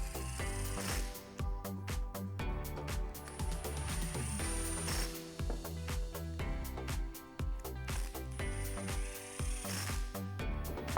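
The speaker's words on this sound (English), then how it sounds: "we're just going to lightly tighten these down with the impact gun" An impact gun lightly tightening new strut studs during a Silverado 1500 leveling kit install, heard as rapid rattling bursts with brief pauses, loud and close in a workshop.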